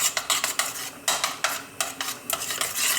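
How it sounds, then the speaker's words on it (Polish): Chopped dill being stirred gently into a horseradish sauce in a pot, heard as repeated close scraping and clinking strokes of a utensil against the pot in an uneven rhythm, with no talking. "Tego już nie gotujemy, tylko wymieszamy delikatnie."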